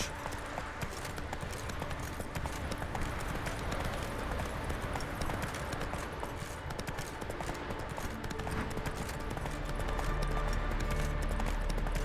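Geralt's horse Roach galloping in The Witcher 3: Wild Hunt, a steady run of hoofbeats set against a dense, continuous game soundscape that stays loud throughout.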